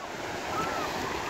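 Sea waves wash onto a beach at South Shields: a steady broadband surf hiss, moderately loud and continuous, mixed with wind buffeting the microphone and no clear talk.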